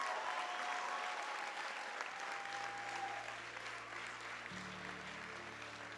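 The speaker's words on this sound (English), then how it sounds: "would like to give another massive round of applause" A crowd at a graduation ceremony claps in sustained, steady applause, with a low hum running beneath.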